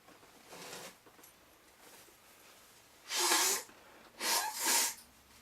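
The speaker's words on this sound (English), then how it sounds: "So I feel a sneeze coming on." Sneezing close to the microphone: a soft intake of breath, then two or three sharp, bright sneezes in quick succession.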